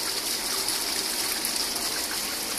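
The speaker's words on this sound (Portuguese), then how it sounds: "A água sai do tanque." Steady rushing flow of water pouring out of a fish-farming tank for catfish, a continuous bright wash with no pauses, close and fairly loud.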